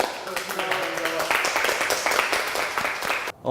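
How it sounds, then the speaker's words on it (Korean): A studio audience gives a big round of applause at the end of a segment, dense clapping for about three seconds with some voices mixed in, then a sudden drop to near silence before clapping picks up again. "큰 박수 주세요"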